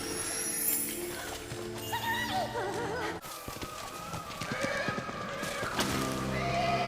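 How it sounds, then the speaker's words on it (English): A horse in the animated film Cinderella III whinnies repeatedly and shrilly among clip-clopping hooves, crashes and dramatic orchestral music. "Oh, this poor horse."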